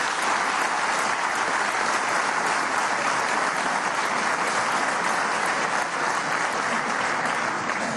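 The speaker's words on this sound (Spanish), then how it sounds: "Un aplauso para Chávez." Sustained applause fills a Venezuelan National Constituent Assembly hall in honor of Chávez, a dense, steady roar of many hands clapping at full volume for the whole stretch, with no voices rising above it.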